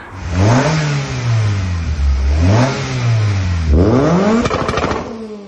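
A Ford Orion ST170 engine running a van engine map revs up hard in three loud, close sweeps, each rising then falling back, with a short rough stutter at the end.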